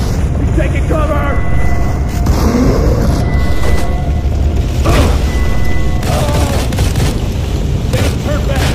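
A grenade explodes in the shooter game Modern Combat 4: Zero Hour, with heavy booms inside a loud, dense battle din while voices talk over it.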